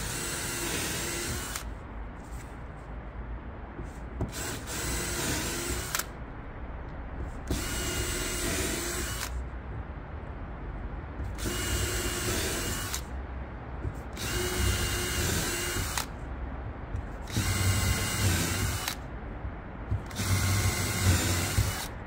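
A power drill bores holes into a car subwoofer enclosure for a fourth-generation Kia Carnival audio system, in about seven loud, evenly spaced bursts of whining drilling with brief pauses between them.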